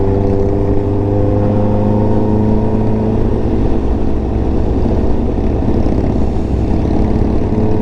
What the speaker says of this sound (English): there goes Big Harley